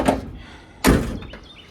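A Gran Torino door fitted with Thunderbird door latches shuts with two solid thunks, a lighter one first and then a heavier slam with a short metallic rattle after it, close by.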